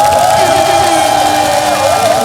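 A packed stadium crowd at Jamsil after a Lotte Giants win over Doosan in Korean baseball roars and cheers in a loud, continuous wash of massed voices, heard close and unbroken.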